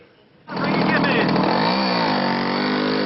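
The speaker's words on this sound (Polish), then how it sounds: "W końcu to słynny motorower Romet Ogar 200" A Romet Ogar 200 moped engine fires up after a short pause and settles into a loud, steady, buzzing two-stroke drone that runs close by without a break.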